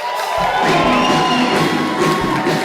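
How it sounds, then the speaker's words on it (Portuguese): A live audience at a Marçal Talks event cheers and whoops as guest Flávio Augusto is welcomed on stage, a loud steady crowd roar with shouts and a tonal background running beneath it. "Uma salva de palmas para esse cara"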